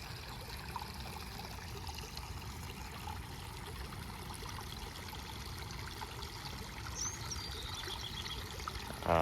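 Water runs through a homemade backyard pond stream and waterfall, a soft continuous trickle and burble at low level, steady throughout with no voices.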